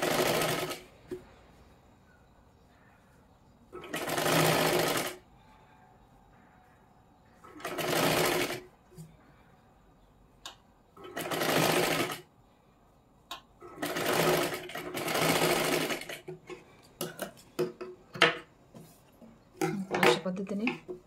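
A sewing machine stitches around a blouse neckline in several separate bursts of steady whirring, each lasting a second or two. Quiet pauses and small handling clicks and clatter fall between the bursts, and someone talks at times.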